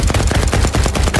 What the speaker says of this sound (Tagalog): Bakit may mga baril?